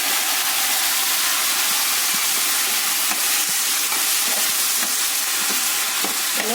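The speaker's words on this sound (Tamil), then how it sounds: "இதுக்குள்ள தக்காளி பழம் போட்டு உருளைக்கிழங்கையும் போட்டு வதக்கும்." Tomatoes and potatoes sauté in a pan for a crispy dosa filling, giving a steady, continuous sizzle and frying crackle close by, with faint stirring clicks and no talking.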